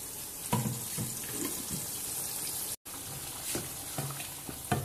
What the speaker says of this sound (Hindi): ये पानी भी डाल दूंगी इसमें।